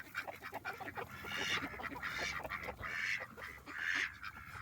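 Several male ducks in a coop give a continuous run of raspy, nasal calls, fairly close and overlapping, with no talking.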